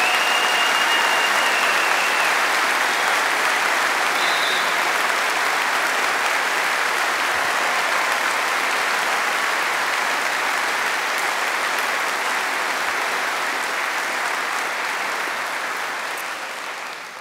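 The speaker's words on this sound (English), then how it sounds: "Can you please give my colleagues a huge round of applause for what they've done?" Sustained applause from a large audience at a London university degree ceremony fills the hall, steady and dense for about seventeen seconds before easing slightly at the very end.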